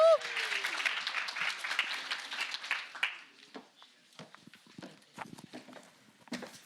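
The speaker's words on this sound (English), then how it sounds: "So can we have a very, very warm round of applause for Isabel?" A lively round of applause from the audience at a start-up finance day event, dense and steady for about three seconds before thinning into scattered claps and faint rustling.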